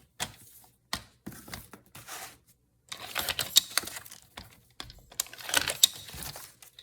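Paper is cut by hand for a tiny handmade junk-journal notebook, short crisp snipping and crinkling bursts in uneven clusters, close and soft with brief pauses between cuts.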